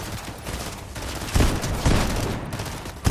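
Gunfire from the video game Fortnite, with several booming shots punching through a dense, noisy background, some of them close together and one more at the very end, and no speech over it.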